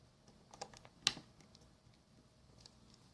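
A battery cover on an Rx300 unit clicks into place, a single sharp snap amid a few faint handling clicks in an otherwise quiet, close setting.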